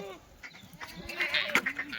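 Kathiyawadi dairy goats bleat in a short run of wavering calls, several overlapping toward the end, fairly close against faint farmyard background.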